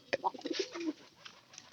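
Pigeons in a straw-lined loft give several soft, throaty coos close by. The coos are quiet, rounded and bunched in the first second, then trail off into faint background with no talk.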